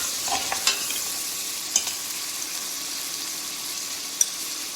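Shallots, onions and garlic sizzle steadily in a pan as a stew base, with a few soft scrapes of stirring and occasional sharp pops over a continuous hiss.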